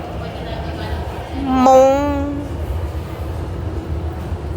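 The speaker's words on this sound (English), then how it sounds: "this is the last C train" A C train rumbles through Shek Kip Mei subway station with steady low noise, and a brief horn-like tone sounds midway.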